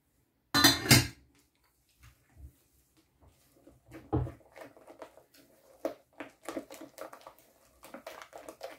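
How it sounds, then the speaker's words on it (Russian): Egg yolks and room-temperature cheese are mixed in a bowl for homemade strawberry ice cream, with a loud clatter at the start followed by soft, irregular scraping and tapping of a utensil against the bowl. "И все аккуратно перемешиваем."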